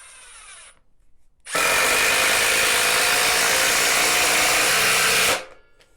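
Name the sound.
Milwaukee impact driver driving 3.5 by 3/8 inch lag screws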